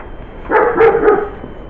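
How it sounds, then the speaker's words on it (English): Several dogs bark in a short cluster of three or four loud yelping barks near the microphone, outdoors beside a boathouse under roof construction. "Dogs, you're wrecking my video."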